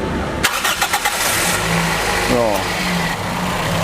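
A used ex-taxi car engine cranks and starts, then settles into a steady running idle close by, with a voice briefly exclaiming over it.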